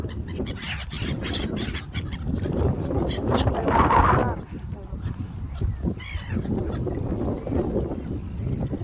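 Geese or ducks honk in a few loud calls from nearby, heard outdoors over wind and a boat-like rumble with a voice in the background.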